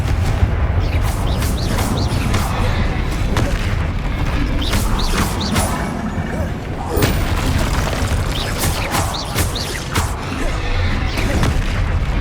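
Bombarda and Confringo spells explode in a Hogwarts Legacy battle, a rapid run of heavy booms and cracking blasts over a dense rumbling bed, loud and continuous with brief game voices mixed in.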